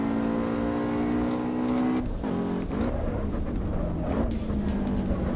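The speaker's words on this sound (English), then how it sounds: "Pop in the rev limiter." Racing car engine bouncing hard off the rev limiter in Assetto Corsa EVO, a loud buzzing harmonic drone that stutters and cuts repeatedly, heard alone without talk.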